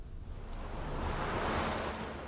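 Water laps and surges in The Witcher 3: Wild Hunt, a steady, soft, broadband wash of waves with a faint windy hiss, heard alone.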